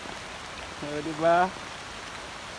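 Heavy rain pours down on banana plants, a steady broadband wash of sound at moderate level, with a single short spoken word in the middle.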